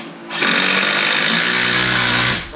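A power tool drives screws into wood door framing during a DIY wall build, a loud, steady whir that kicks in abruptly and holds for about two seconds before trailing off, close and alone.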